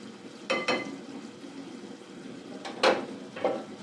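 Soaked lentils tipped into a cooking pot for haleem, making a few soft splashing thuds in two short pairs over a low, steady simmering hiss.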